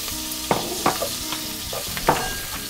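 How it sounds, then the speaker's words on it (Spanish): Green pepper sautéing in a hot pan for Cuban congrí, with a steady close sizzle and a few sharp scraping stirs and taps of a utensil against the pan, no voices. "vamos a seguir sofriendo los demás ingredientes. Echamos el pimiento verde,"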